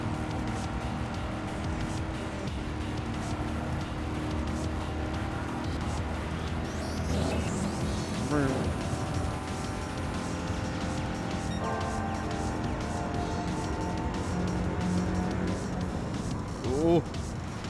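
A Honda Civic engine roars continuously in the racing game Gran Turismo 7, shifting pitch through gear changes with occasional tire and impact noises, while someone talks over it throughout.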